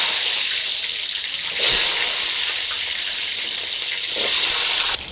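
Onions frying in hot oil for mudakathan herbal chutney, a steady broadband sizzle held throughout with two brief louder surges of spattering, close and unaccompanied by talk.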